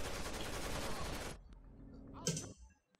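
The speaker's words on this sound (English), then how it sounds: "I am shooting people!" Dense automatic gunfire in Rainbow Six Vegas 2 rattles loudly for over a second, then cuts off, leaving a few isolated shots and a brief metallic clatter before near silence.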